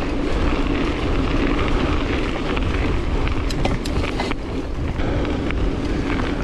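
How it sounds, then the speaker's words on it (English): Icy wind buffets the microphone on a mountain bike ride through a cold forest, producing a constant loud, close roar of blustery noise with no talk. "Perfect conditions, except for maybe the ice cold wind."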